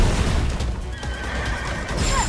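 A horse-like creature whinnies in the Stellar Blade video game, with a brief neigh rising out of a dense, noisy game soundscape full of low rumbling and clattering, fairly loud throughout.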